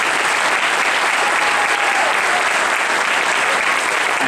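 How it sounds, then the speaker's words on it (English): Steady, dense applause from a large audience at a fiesta check award event fills the whole stretch at an even level, a continuous wash of clapping with no talk over it. "So one more round of applause,"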